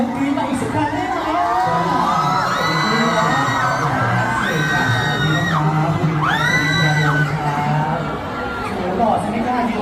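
A gala crowd of fans screams and cheers loudly and continuously, high-pitched shrieks and whoops swelling in waves, with an announcer talking over the noise.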